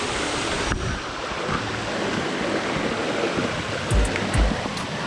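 A waterfall and a stream in Kharghar, Navi Mumbai, give a continuous loud, close rush of falling and flowing water, with a few brief splashes near the end.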